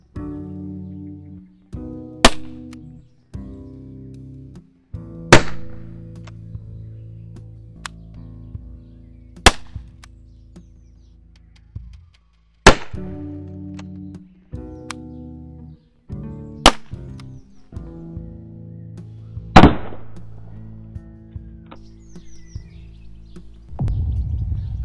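Shots from a .50 caliber HDR air gun fired at targets ring out one at a time at uneven intervals, about eight sharp, loud cracks with short decays, each standing alone over a quiet background.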